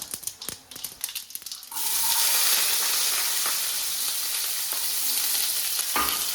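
After a few clinks and rattles, small onions and dried red chillies hit hot oil in a pan, starting a loud, dense, continuous sizzle that stays close and steady with a clack near the end.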